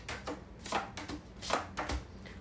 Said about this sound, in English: I can't shuffle these cards